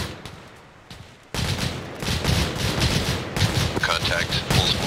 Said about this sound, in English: Yeah, I'm just gonna fucking shoot the bushes.